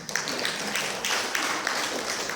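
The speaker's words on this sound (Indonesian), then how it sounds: "Wah, beri tepuk tangan dong." A church congregation at a Sunday service breaks into applause, a dense, steady wash of many hands clapping in a large room, lasting a couple of seconds at moderate loudness.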